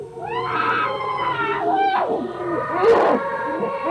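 Strange human-like vocal noise played backwards, with warbling, rising and falling moaning tones that sound like muffled crying, plus a harsher burst in the middle.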